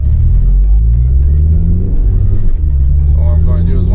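A 2013 Honda Civic Si accelerates hard toward 60 mph ahead of a brake test, its engine droning loudly as the pitch climbs through the gears. A short dip marks a shift, and someone talks over it.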